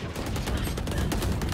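Rapid gunfire in a tactical shooter video game, a dense run of sharp, loud shots firing in quick bursts with no pause.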